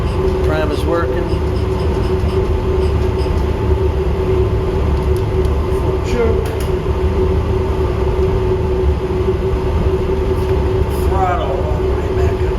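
A Troy Bilt Storm 2620 snow blower engine with a faulty carburetor drones loudly and steadily throughout, rough and constant, while a person talks over it.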